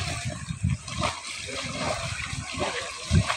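Someone swims in a swimming pool, and the water splashes and sloshes continuously at close to moderate distance, with a few heavier slaps standing out.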